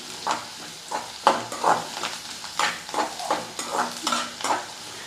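Chopped onions with fenugreek greens fry in a pan for a fenugreek-leaf poriyal, a spoon stirring in regular scraping strokes about every half second over a soft sizzle, close and moderately loud.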